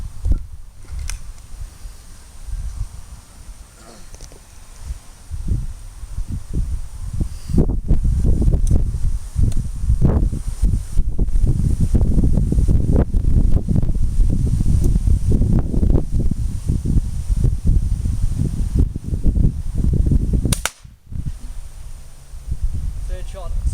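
Outdoor wind gusting across the microphone during air rifle shooting with an SMK BAM DB4 .22, loud, rumbling and buffeting for most of the stretch, with a brief sharp break near the end.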